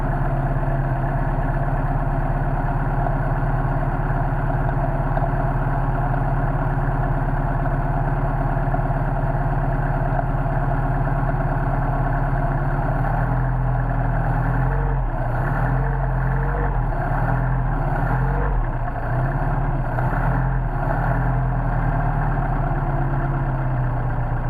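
A cold carbureted engine with a Solex 44PHH carburetor idles steadily and loudly in extreme cold, a low rumbling drone with a slight uneven pulse partway through.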